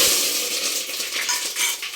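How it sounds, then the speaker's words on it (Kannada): Mustard seeds and curry leaves tempering in hot oil for a vegetable pulao, a steady bright hiss of sizzling with faint crackles, close and unbroken, no voices. "ಇವಾಗ ಸಾಸಿವೆ ಹಾಕ್ತಾ ಇದ್ದೀನಿ"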